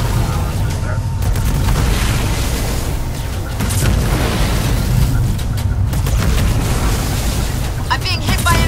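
Artillery shells and bombs pound the battlefield in the Halo Wars 2 strategy game, a dense, continuous barrage of low booms and bursts under game voices and radio chatter.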